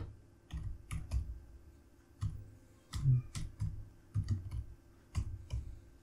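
Someone types text on a computer keyboard in a quiet room, producing close, crisp key clicks in irregular short bursts separated by brief pauses, with no talking.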